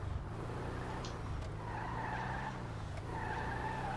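In the video game GTA 5, a Bugatti Chiron pulls away with its tires skidding and squealing over a steady engine drone, moderately loud and close.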